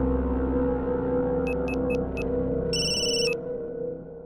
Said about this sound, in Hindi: हाँ बोल टिल्लू, अचानक कैसे फोन कर दिया?